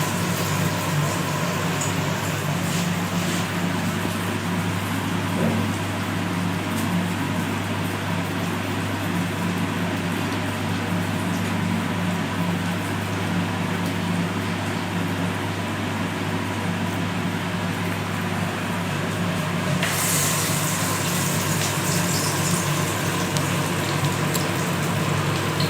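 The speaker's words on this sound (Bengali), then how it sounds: "গরম হয়ে গেছে, আমি এবার তেলে এটা ছেড়ে দেবো।" Banana flower chops (mochar chop) frying in hot oil give a dense, steady, rain-like crackle that lasts throughout, with no voices.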